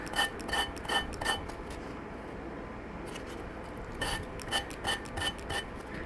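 Rhythmic scratchy rubbing strokes of a sanding block on wood, close and fairly quiet, in quick bursts with a pause in the middle.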